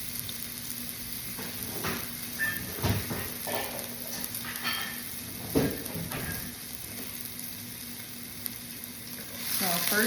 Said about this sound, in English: It's sizzling a little bit.